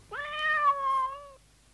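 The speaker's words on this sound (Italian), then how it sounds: "la bimba sentì nel vicolo un pietoso miagolio" A cat meows once in an alley, a single clear, drawn-out, rising-then-falling cry, close and loud with nothing else underneath.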